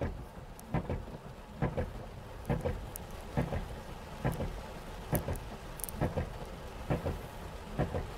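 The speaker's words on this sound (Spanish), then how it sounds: "Ustedes notarán, está lloviendo." Steady rain falls during Hurricane Irma on coastal Puerto Rico, a constant hiss broken by regular low thumps and knocks roughly every second, with no voices.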